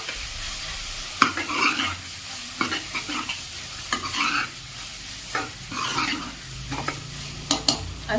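A spoon stirs coriander powder and garam masala into a capsicum paneer curry cooked in ghee without oil. Scrapes and knocks against the pan come at irregular intervals over a soft, constant sizzle.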